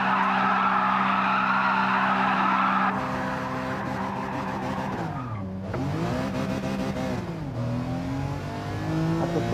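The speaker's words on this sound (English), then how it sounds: "Successful burnout." Car doing a tire burnout in the racing video game Gran Turismo 7: a sustained engine roar with a harsh squealing skid, shifting pitch as the revs rise and fall, loud and continuous.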